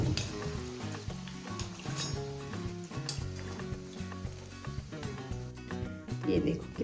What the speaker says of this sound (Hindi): चंद्रकला फ्राई हो चुकी है, अब इन्हें निकाल देते हैं।